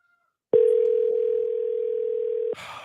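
A telephone ringback tone sounds as a call waits for someone to pick up: one loud steady tone held for about two seconds, then cut off by a burst of noise.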